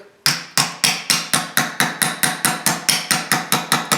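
A hammer strikes sheet metal being shaped into a grape leaf, about fourteen sharp, ringing blows in a steady, even rhythm, loud and close with nothing else heard.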